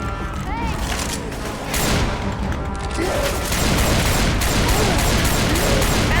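Shotgun blasts and chaotic combat noise from Left 4 Dead 2, repeated loud booms over a busy, dense game soundscape with continuous commotion throughout.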